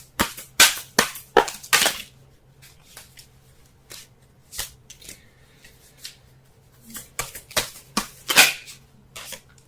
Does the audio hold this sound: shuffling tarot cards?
yes